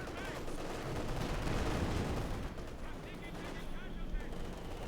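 Dense gunfire and booming explosions from mortar shells landing nearby in the World War II strategy game Company of Heroes 2, a continuous loud barrage with a commentator talking over it.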